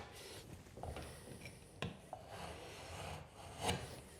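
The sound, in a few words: cutting through drywall with a utility knife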